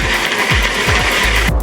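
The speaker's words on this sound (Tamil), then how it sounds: "இப்போ இதில் போட்டு நான் அரைக்க போகிறேன்." Blender grinding ice cubes for a strawberry banana smoothie, a loud, steady close whirring grind with rhythmic rattling knocks of ice running throughout without a break.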